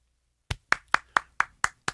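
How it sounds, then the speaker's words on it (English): Seven sharp, evenly spaced hand claps from a small group, sounding like polite, sparse applause after a short silence, fairly close and clear with no talk over them. "We gave them credit. Applause."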